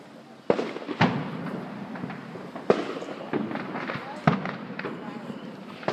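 Fourth of July fireworks pop and bang at a distance, a handful of sharp separate reports spread irregularly over several seconds, under a steady background hum.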